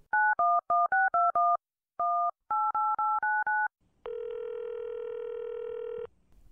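A run of touch-tone keypad beeps in quick rhythmic groups, followed by a steady two-second tone from the phone line.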